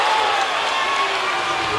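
Basketball crowd at an Elite 8 high school game between the Chattooga Indians and Swainsboro Tigers, a steady loud roar of cheering and noise filling the gym, with a voice talking over it.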